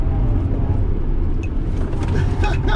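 Tesla Model X 100D braking hard into the last corner of a race track, a loud, continuous low road and drivetrain rumble with a faint rising squeal near the end.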